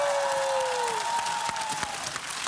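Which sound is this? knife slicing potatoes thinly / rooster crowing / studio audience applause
studio audience applause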